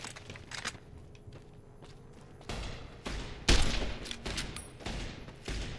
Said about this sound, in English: Oh, you can hear gunfire already.